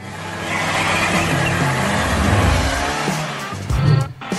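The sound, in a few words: car driving, Monica's new car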